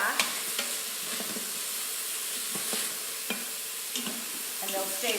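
Split peas cooking in a pot for split pea soup, with a steady close sizzle and bubbling hiss broken by a few light stirring clicks, no talking.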